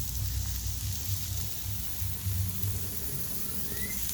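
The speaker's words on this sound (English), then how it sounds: "Today is raining day." Steady rain falling outdoors on a porch where jumbo shrimp are being grilled, a continuous hiss with a low rumble underneath and no voices.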